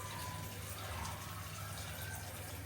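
Tap water running steadily during handwashing, a continuous close gush with a low hum underneath and no talk.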